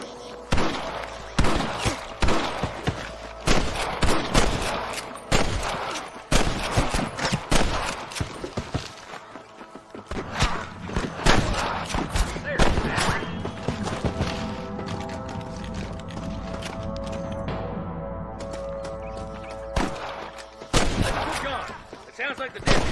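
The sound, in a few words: gunfire from snipers in video game Red Dead Redemption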